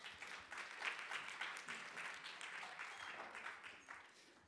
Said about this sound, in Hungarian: Hát szerintem tapsoljuk meg a dicsőítést.